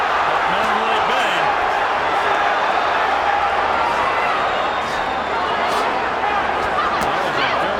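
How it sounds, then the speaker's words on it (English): Steady roar of a large boxing arena crowd at Mandalay Bay during the Oscar De La Hoya vs Fernando Vargas fight, dense and continuous cheering with a commentator's voice running over it. "the crowd really comes to life here at Mandalay Bay"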